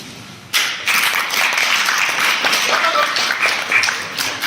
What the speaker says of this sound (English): Don't applaud, I haven't done anything yet.